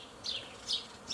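Honeybees buzzing at a starter colony made by shaking nurse bees off brood frames, with a soft steady hum and a couple of louder buzzing passes as bees fly close by.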